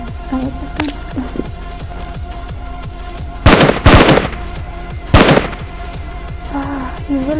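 Gunfire in the mobile battle royale game PUBG Mobile: three sharp, loud bursts of shots, two close together and one a moment later, over a low game background with faint scattered sounds.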